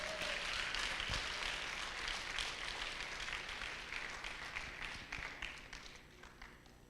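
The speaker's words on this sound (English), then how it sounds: "Can we just give him another round of applause, please?" An indoor audience at a community gathering for the 16 Days of Activism against gender-based violence gives a steady round of applause, dense continuous clapping that slowly fades toward the end.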